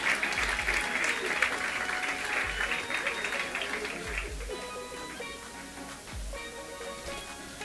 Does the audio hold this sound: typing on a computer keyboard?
no